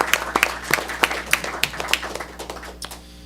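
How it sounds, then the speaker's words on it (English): Scattered hand claps from a small group at a board meeting, a dozen or so sharp irregular claps that thin out and fade toward the end. "And I'd like to give all of them a round of applause too."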